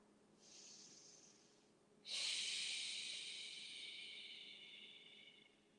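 Slow, deep breaths during a yoga stretch in a crossed-leg staff pose: a soft airy inhale, then a longer, louder hissing exhale that fades gradually, close and alone.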